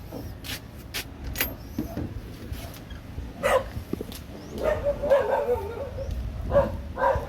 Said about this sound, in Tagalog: Ang daming aso dito sa amin eh.